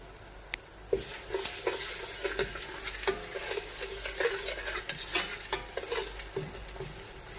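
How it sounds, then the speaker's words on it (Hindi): Steady sizzling of onions frying with ginger-garlic paste in a pan, with occasional scraping stirs and light clinks from a utensil. "इसका कलर चेंज होने तक, गोल्डन ब्राउन होने तक इसे हम भूनते रहेंगे"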